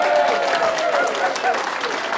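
An audience at a public committee meeting on groundwater wells and water rights claps steadily in a dense, sustained burst, with voices mixed into the crowd noise.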